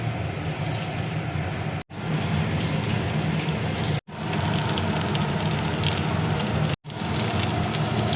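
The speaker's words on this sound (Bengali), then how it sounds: "এবার আমি কচুগুলো তেলের মধ্যে ভেজে নেব।" Taro pieces frying in hot mustard oil in a kadai give a steady, dense crackling hiss like heavy rain, held at an even level and broken by three brief cuts to silence.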